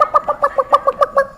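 A person's voice imitates a hen clucking, giving about nine quick, loud, close clucks in a steady bouncing rhythm.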